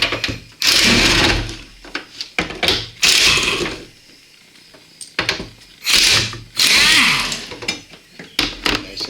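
A power tool spins out 13mm bolts holding a bracket inside the front driver-side fender area of a GMC Sierra, heard as several close, loud whirring bursts of a few seconds each, separated by short quiet gaps, with no talking.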